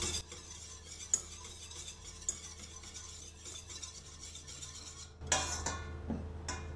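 A utensil stirs egg yolks in a saucepan, giving a steady soft scraping and swishing against the metal, then a louder clattering scrape near the end.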